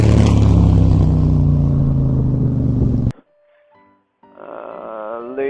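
Cherry red Honda CB1000R Neo Cafe Racer motorcycle, its engine rumbling loud and close for about three seconds, then cutting to near silence before a lighter, steadier running tone returns.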